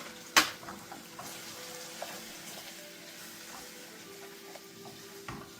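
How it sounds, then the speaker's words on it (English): Blended cheese is stirred into noodles in a pan, giving a low, steady sizzle with soft scraping. One sharp clink comes near the start and a faint knock comes near the end. "So I'm gonna add the cheese, and I'm just gonna stir that in."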